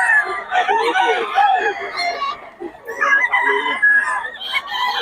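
A young stag rooster crows loudly and close by, its calls overlapping with clucks from other fowl, while people talk underneath at what sounds like a gamefowl sale.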